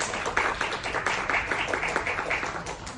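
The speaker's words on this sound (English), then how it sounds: "Big round of applause." Audience applause for an opening speaker at an ESG panel event, steady, moderately loud clapping from a crowd that continues evenly throughout.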